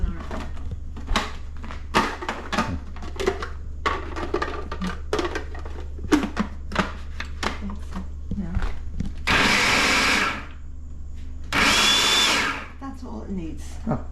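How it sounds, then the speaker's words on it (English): Blender chopping quartered onion for an Armenian appetizer: two short bursts of loud, broadband motor whirring, each lasting about a second or two, come after a stretch of clattering kitchen handling and a steady low hum. "if you have a blender, just cut them into quarters, the onion, and just throw it in and it'll do its job"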